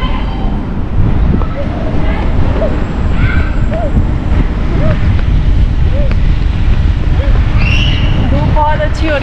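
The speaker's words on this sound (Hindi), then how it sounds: "लेकिन ये भी अच्छा है कि हवा चल रही है।" Steady wind blowing across an open outdoor walkway on a hot day, a continuous loud rumble buffeting the microphone with faint distant voices underneath.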